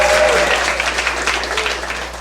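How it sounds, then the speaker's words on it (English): Audience applause fills a comic book store after a panel event, dense steady clapping at full strength from the first moment, holding through the whole stretch with only slight easing toward the end. "Give yourself a round of applause for coming on out"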